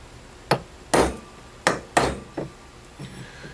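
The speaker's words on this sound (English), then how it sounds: "Center punch your holes." A hammer strikes a center punch to mark drill holes in metal laid on an old piece of wood, six or so sharp taps at uneven intervals, close and clear in a quiet room.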